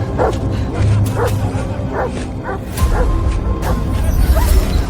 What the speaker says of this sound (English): Release the hounds!